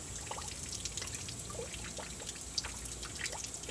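Water from an evaporative cooler drains steadily into a bucket on a hot September day in Phoenix, Arizona, a continuous soft trickle and pour with scattered small drips, close and faint, with no talking.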